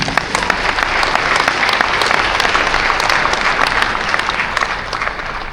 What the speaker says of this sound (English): Let's clap for Ghanaian women.